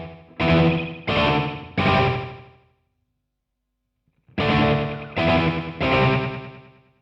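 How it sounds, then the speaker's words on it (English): Electric guitar run through a delay pedal with the time turned up into echo territory: two groups of three strummed chords, each chord ringing out and repeating, with a pause of silence between groups. "you get more echo kind of effects"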